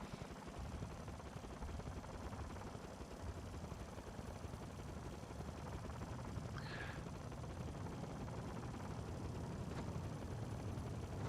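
A video game helicopter drones with a steady, faint, continuous rotor and engine rumble, with one brief higher chirp partway through and no talking.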